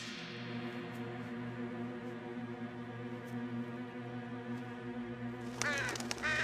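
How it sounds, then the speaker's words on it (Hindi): A crow caws in a Fireman Sam cartoon: a burst of harsh, raspy caws comes near the end over a steady, droning music bed. "अच्छा, एक कौवा था।"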